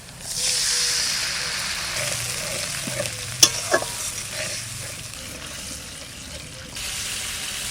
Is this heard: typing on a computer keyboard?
no